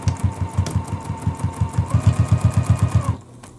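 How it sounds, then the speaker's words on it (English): A sewing machine backstitches through a quilted pillow top, a steady rapid train of needle thumps with a whirring motor hum, running evenly for about three seconds before stopping. "I am gonna backstitch in my stop and start."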